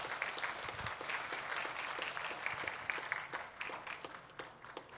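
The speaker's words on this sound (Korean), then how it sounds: "큰 박수 부탁드리겠습니다" A congregation at a Korean Presbyterian church service claps steadily through a flower-bouquet presentation, a dense, even patter of many hands that stays loud throughout.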